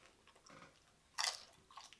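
A crunchy bite into loaded nachos topped with Doritos and hint-of-lime tortilla chips, heard close up as one sharp crunch with softer chewing before and after.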